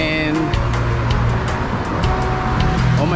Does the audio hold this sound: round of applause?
no